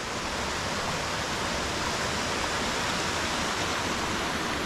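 Steady, dense roar of water pouring at Freedom Falls in Venango County, Pennsylvania, a broadband rushing wash that stays constant and close throughout with no voices over it.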